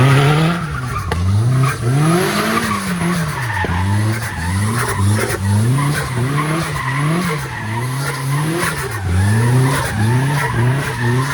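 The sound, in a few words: Nissan 240sx drifting with tire squeal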